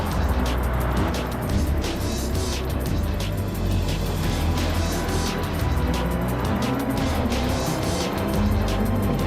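An underpowered car racing in a video game, a loud continuous engine roar with tyre rumble and a rapid rattling texture throughout, no speech.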